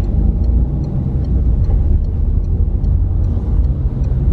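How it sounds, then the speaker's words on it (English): Steady low rumble of an Uber car driving through Zagreb, Croatia, heard from inside the cabin, with continuous road and engine noise and faint periodic ticks. "So now we're in an Uber heading towards our car rental area."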